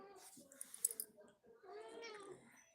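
A mother cat calls to her small kitten with a few close, drawn-out meows, one rising into a longer plaintive cry, mixed with light clicks and soft rustling.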